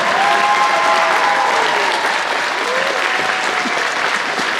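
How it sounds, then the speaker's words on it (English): A concert audience at a winter band and orchestra show gives loud, sustained applause for a beginning sixth grade band, dense clapping from a large crowd with faint voices mixed in. "how about one more round of applause for our beginning 6th grade band?"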